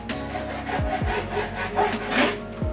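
A knife slices through steak on a board in close, rhythmic strokes. Several scraping, sawing cuts follow one another with no talk.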